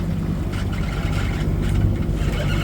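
Aboard a sailboat on a long passage from the Bahamas toward Charleston, the engine drones in a steady low hum under continuous wind and water rush, without talk.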